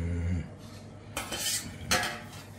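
Plate and cutlery clatter while food is served at home, with a few sharp clinks and scrapes standing out over steady kitchen background noise.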